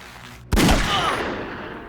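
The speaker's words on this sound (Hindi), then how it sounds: "गोली चल रही है" A single sharp gunshot cracks out in a Hindi-dubbed Hollywood action movie, loud and close, ringing out with a decaying tail after a brief lull.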